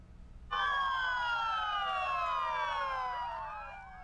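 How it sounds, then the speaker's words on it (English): Police patrol car sirens wail in a long funeral procession of law enforcement vehicles, several sirens overlapping in steady rising and falling tones, loud and close, then gradually fading slightly. "An endless line of patrol cars, lights flashing, sirens on."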